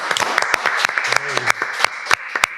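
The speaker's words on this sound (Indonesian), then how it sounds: "Tepuk tangan." Scattered claps from a small podcast studio crowd, with distinct individual hand claps rather than dense applause, close and fairly loud, with a voice briefly heard among them.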